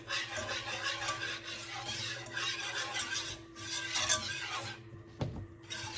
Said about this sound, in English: You wanna gradually whisk so that you don't scorch this flour and butter